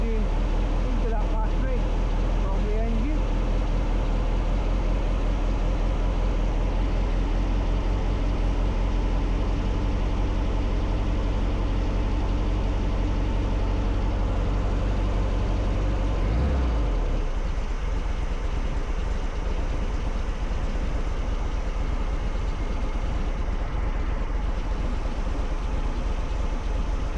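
Vehicle engine running steadily at idle while it charges a battery through a split charger, a loud low drone that cuts off abruptly around the seventeenth second, leaving quieter ambient noise.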